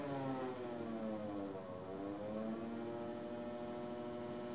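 A hydraulic pump motor in a load sense system drops in speed, its steady harmonic whine and hum sliding lower in pitch and then holding, loud and close, with no talking.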